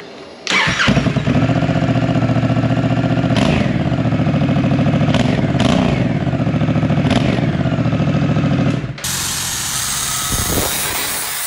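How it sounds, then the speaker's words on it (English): A Honda Africa Twin motorcycle with its stock exhaust removed starts and idles loudly up close, a steady rough mechanical roar with a few throttle blips, then shifts to a harsher, hissing tone near the end. "Here's the stock exhaust sound. Let's hear it without it."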